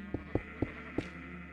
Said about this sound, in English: There was definitely some sheep noise.